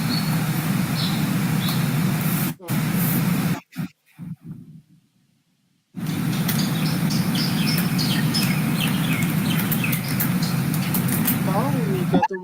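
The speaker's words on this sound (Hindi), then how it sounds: "ये इतनी चिड़ियों की आवाज, ऐसे कौन सी लोकेशन में रहती हो तुम?" Many birds chirp near a condo home in a steady chorus of small calls beneath a continuous background hum, with a spoken voice over parts of it and a brief dropout to near silence.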